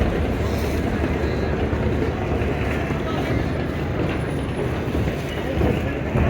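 Low rumbling engine drone of a passenger launch ship speeding toward the Barishal pontoon, steady and broad with wind buffeting the microphone throughout.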